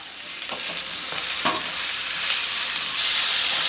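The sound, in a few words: tomatoes frying with onions in a pan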